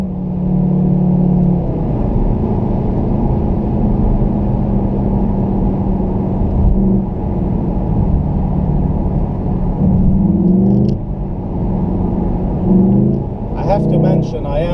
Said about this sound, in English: It's got like a bit of a V engine rumble.